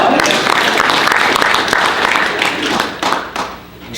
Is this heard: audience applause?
yes